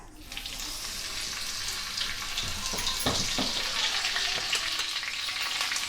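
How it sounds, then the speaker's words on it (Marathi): Finely chopped green chillies hit hot oil in a pan, giving a steady close sizzle with crackling spits and pops from start to finish. "दोन मिरची मी असे बारीक चिरून घेतलंय ते घालते तेल तापला"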